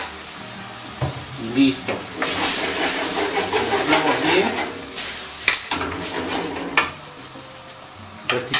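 Soy sauce hits a hot pan of stir-fried bonito fish, setting off loud sizzling and hissing with bursts of stirring clatter, while a voice speaks briefly near the end.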